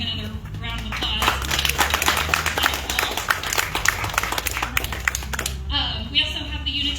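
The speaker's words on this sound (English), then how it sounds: "Obviously, to Michael Murphy, we can give him another round of applause." Audience applause at an outdoor lantern float event, a dense continuous patter of many clapping hands that swells and then tapers off near the end.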